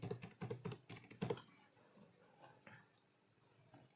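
A computer keyboard clatters in a quick burst of keystrokes while information is typed into a form, close and quiet, then falls to near silence after about a second and a half.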